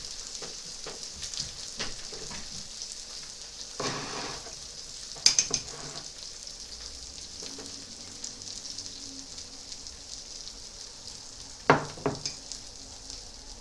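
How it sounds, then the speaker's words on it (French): Cheese melting on a two-in-one plancha grill gives a soft, steady sizzle and crackle, with a few brief clinks of utensils against the plate near the start and end. "le fromage, il est en train gentiment de fondre, de chauffer"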